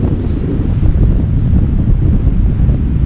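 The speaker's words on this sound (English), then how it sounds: "It's a little bit windy, but it's not too bad." Strong wind buffeting the microphone on a coastal headland near a lighthouse, a constant low roaring rumble with gusty swells and no voices.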